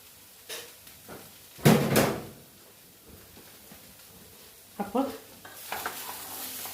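A fish filling fries in a pan and is stirred in a few separate bursts of scraping and sizzling, with quiet pauses between the strokes.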